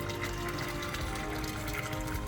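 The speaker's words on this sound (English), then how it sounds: "We need to pour that bucket into this. Just pour it right down this tunnel." Blueberry mead must pours from a bucket through a funnel, a soft continuous liquid splashing and gurgling that stays even and fairly quiet throughout, with no talking.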